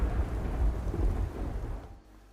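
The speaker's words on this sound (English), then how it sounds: "Lightning starts striking and you just get this urge to get inside." A Skyrim thunderstorm with rain under the Climates of Tamriel weather mod: a heavy, rumbling roll of thunder over a steady rain wash, loud and broad, fading away near the end.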